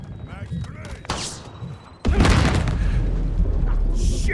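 A grenade explosion in the video game Call of Duty Modern Warfare multiplayer: a heavy, booming blast hits midway and rumbles on, following a voice and sharp game sounds beforehand.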